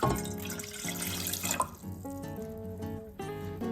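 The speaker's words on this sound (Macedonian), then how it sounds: "Водата ја замлачив, сега ќе ја турам." Lukewarm water pours from a measuring glass into a mixing bowl for homemade bread dough, a soft, quiet stream of splashing under background music.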